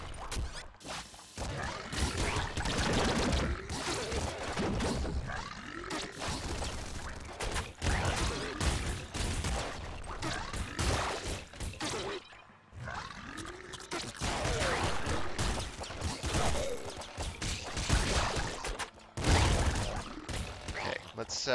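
Rapid gunfire and explosions from the top-down shooter Nuclear Throne pour out in dense, loud, continuous bursts with roaring blasts, carrying on almost without pause through the whole stretch apart from a short lull.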